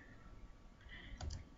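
Keys clicking on a computer keyboard as a Shift-5 shortcut is typed, a couple of close, quiet keystrokes near the end over faint room hum.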